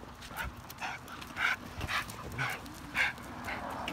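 A dog at a kennel barks in a series of short, fairly loud bursts, roughly every half second to second, over steady low background noise.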